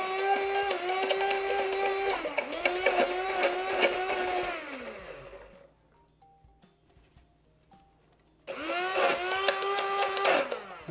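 A blender whirs through Caesar salad dressing with anchovies in two long bursts of rising and falling motor whine. It drops to near silence with a few faint clicks, then starts up loudly again.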